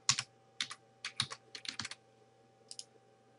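Keys clatter on a computer keyboard as a password is typed, in short irregular bursts of crisp clicks separated by brief pauses, close and fairly quiet in an otherwise still room.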